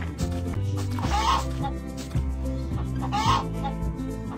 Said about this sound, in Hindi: ये एक परिंदा है।